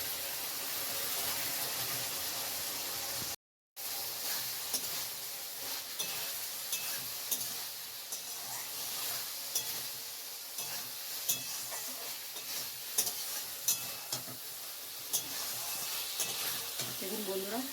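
Fried okra sizzles steadily in a pan for a dahi bhindi sabji, with scraping stir strokes and light clicks throughout and a brief gap of silence early on.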